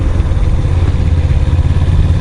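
A motorcycle engine idles loudly and close by on an Alpine road near the Grossglockner, a steady low rumbling chug with no speech over it.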